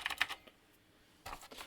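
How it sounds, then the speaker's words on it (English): Clicky early Cherry MX Blue mechanical keyboard switches typed in two quick bursts, a rapid run of sharp, close clicks, a short quiet pause, then another flurry of keystrokes. "these are actually clicky switches"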